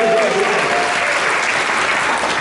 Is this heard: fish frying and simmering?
no